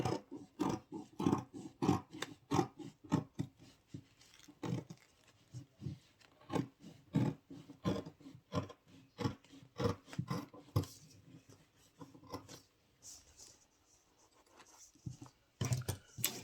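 Scissors cut through fabric for a structured standing sleeve, a faint series of uneven crisp snips and rustles at close range, with no talk.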